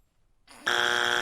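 A quiz game buzzer sounds in one loud, steady electronic blare that cuts in abruptly after a brief rising hum and holds at an even level.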